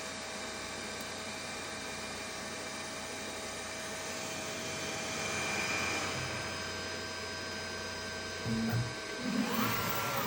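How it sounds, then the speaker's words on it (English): A 3D printer runs while printing a dog paw washer, giving a steady mechanical whir with faint stepper-motor tones and a few soft bumps near the end, heard alone with no talking. "Oh, I think we're printing."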